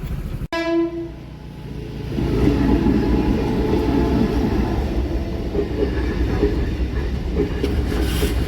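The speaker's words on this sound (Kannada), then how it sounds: "ಟ್ರೈನ್ ಬರುತ್ತೆ ಅಂತ ಹೇಳಿ ಗೇಟ್ ಹಾಕ್ಬಿಟ್ಟಿದ್ದಾರೆ" A sharp horn blast opens, then a train rumbles past a railway level crossing in Mysore, India, a loud sustained roar of wheels and cars that fills the rest of the clip.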